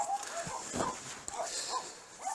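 Dogs bark in a rural village, a few scattered distant woofs faintly heard over steady outdoor background noise.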